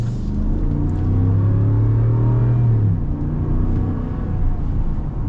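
A 2024 Ram 1500 Limited Night Edition pickup's Hemi V8 accelerates hard, a loud, steady low rumble that swells with rising engine tone, heard from inside the cabin and continuous throughout.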